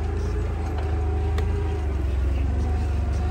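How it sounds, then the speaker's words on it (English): A forklift engine runs steadily as it is driven, a low continuous mechanical drone with no talk over it. "it's my first time in my life ever driving the Forklift"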